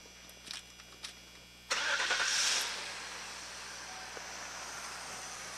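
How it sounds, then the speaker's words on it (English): A vehicle engine cranks over and catches, then settles into a steady idle, following a few faint clicks in the quiet before the start. "Again, the vehicle can be started."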